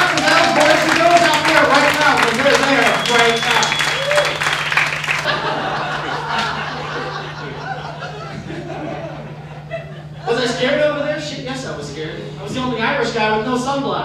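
Comedy club audience applauding for military servicemen and women, a dense wash of clapping mixed with laughter and crowd chatter that fades, then swells again near the end.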